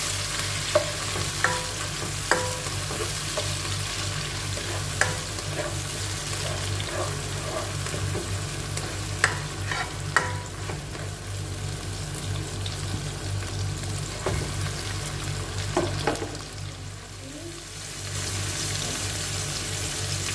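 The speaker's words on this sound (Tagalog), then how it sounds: "Lagyan natin ang ating kamatis. Gisa lang natin siya" Tomatoes sauté in a hot pan for pinakbet with a steady sizzle, broken by scattered clinks and scrapes of a stirring utensil and a brief trickle of water, with no talking.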